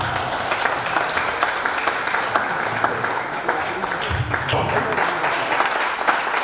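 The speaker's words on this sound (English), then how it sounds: "clap your hands" Audience at a Democracy Day programme clapping hands together, dense continuous applause with voices and crowd noise mixed in throughout.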